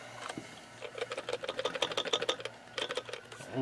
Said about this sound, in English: that fan doesn't even sound healthy